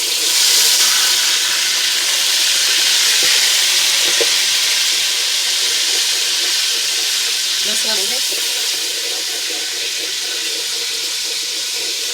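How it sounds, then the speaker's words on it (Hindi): Garlic-ginger paste with a little added water fries in a pan after browned cloves and cardamom, a loud, steady sizzling hiss close up with occasional faint stirring scrapes. "लहसुन अदरक को 2 मिनट हम इसमें भूनेंगे।"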